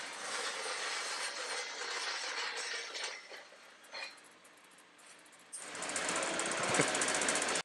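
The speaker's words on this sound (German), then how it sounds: "als Adam immer noch das Boot schleift" A harsh, buzzing power sander grinds a Westsail 32 sailboat hull continuously, dropping briefly quieter midway before surging loud again, close by and with no speech.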